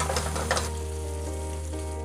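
Pork and kimchi stir-fry sizzles in a hot pan with Cheongyang chili peppers and green onion, a continuous close frying hiss with brief scraping stirs at the start.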